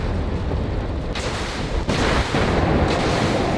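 Cannon fire from a Leopard 2A6 tank in a video game, with loud heavy blasts over a constant rumbling roar, a few booms spaced about a second apart, close and forceful.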